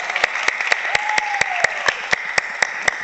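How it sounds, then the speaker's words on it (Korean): A church youth service congregation claps rhythmically in unison, sharp evenly spaced claps under a faint sustained tone, close and steady throughout. "우리 샬롬의 여성 여러분, 우리 봉준이를 위해서 박수."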